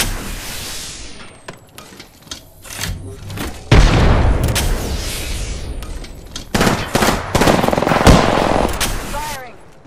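Automatic weapon fire from Apex Legends: repeated loud, sharp volleys and bursts of shots with heavy booming impacts, broken by brief pauses and then resuming in dense clusters.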